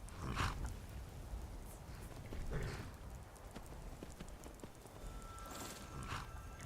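Horse hooves clip-clop at a walk in the Skyrim video game outside Whiterun, the footfalls soft and mid-distance over a steady outdoor ambience, with no talking.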